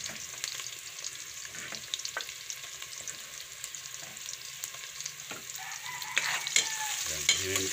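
Ginataang alimasag, crab cooked in coconut milk with squash and ginger, stirred in a cooking pan: a steady, close scraping and bubbling sizzle with soft knocks, growing louder with a few sharper clinks near the end.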